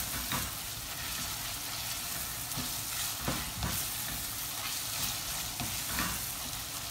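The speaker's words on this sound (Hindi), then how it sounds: "और इसको भी थोड़ा सा स्टर करेंगे थोड़ी देर ताकि इसका भी फ्लेवर रिलीज हो।" Chops frying and being stirred in a pan over medium heat, a dense continuous sizzle with scraping stir strokes, close up and alone without talk.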